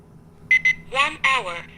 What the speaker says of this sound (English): Just one voice announcement on the hour sounding like this.